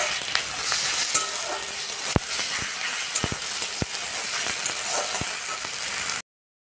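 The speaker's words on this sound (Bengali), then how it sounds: "এর মধ্যে আদা রসুন বাটা দিয়ে দেব।" Ginger-garlic paste sizzles steadily in hot oil in a pan, a dense frying hiss broken by sharp spatula clicks and scrapes, with no talking.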